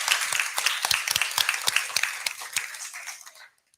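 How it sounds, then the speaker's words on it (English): Audience applause for a discussion panel at an event, a burst of many hands clapping close and steady before tapering off and stopping abruptly. "Could we have a quick round of applause for our panel?"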